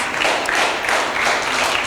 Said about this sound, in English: Shall we clap our hand and say, thank you, Jesus.